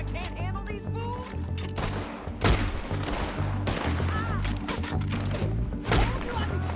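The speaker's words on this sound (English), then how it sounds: "Told you I could shoot a gun, didn't I?" Gunshots in the western game Red Dead Redemption 2, sharp cracks and heavier booms firing in irregular bursts amid a busy firefight, with shouting voices and background score beneath.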